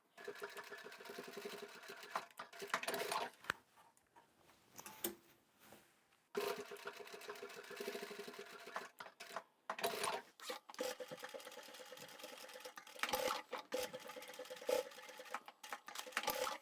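A sewing machine stitches the sides of a stackable fabric storage basket together, running in rapid mechanical bursts with short pauses between seams, close and clear.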